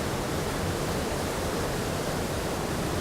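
Water of a river and waterfall rushes steadily in a dense, unbroken roar, loud and close, with no pauses or voices over it.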